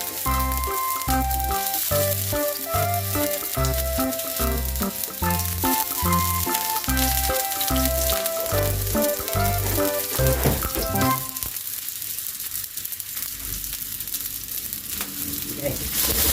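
Onion and garlic sizzle and spit in hot oil, with music playing over the frying for most of the time before the crackle and hiss continue alone at the end.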